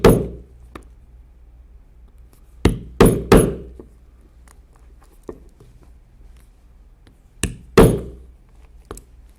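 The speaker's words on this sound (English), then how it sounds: "we'll now take a 1/8 inch punch and we'll punch through the existing holes and through the shap leather" Hammer strikes driving a 1/8 inch leather punch through chaps leather, in single and double sharp knocks spaced apart, with quiet between them.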